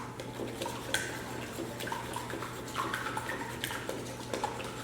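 Batter with a splash of vanilla whisked in a bowl at home, a steady faint wet stirring with light clinks of the whisk against the bowl, no voices.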